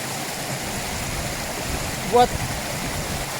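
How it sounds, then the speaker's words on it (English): Water pours from a waterfall as a constant broadband rush, steady and moderately loud, while a voice briefly speaks a single word over it. "now I am exploring this waterfall"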